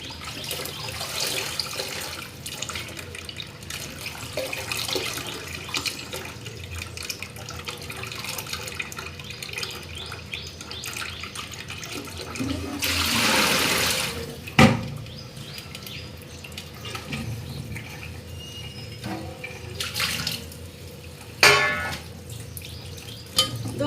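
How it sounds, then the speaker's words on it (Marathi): Water splashes and trickles as spinach leaves are swished and rinsed in a basin, with occasional louder sloshes and light clinks, no talking. "भाजी व्यवस्थित स्वच्छ दोन ते तीन पाण्याने आपल्याला धुवून घ्यायची आहे"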